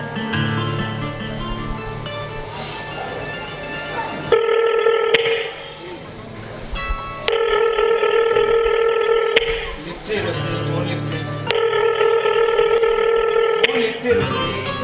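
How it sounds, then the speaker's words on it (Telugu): A telephone rings unanswered during a call in a Telugu stage play, sounding as repeated electronic ring bursts in three rounds over steady background music. "ఎవరు లేరు, ఫోన్ లిఫ్ట్ చేయి."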